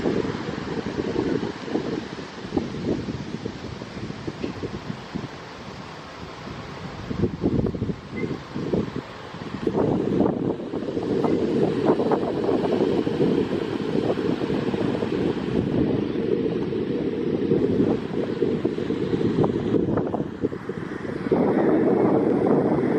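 Wind blowing at an outdoor viewpoint in a national park, a continuous rushing roar buffeting the microphone with gusty surges over the whole stretch, no talking.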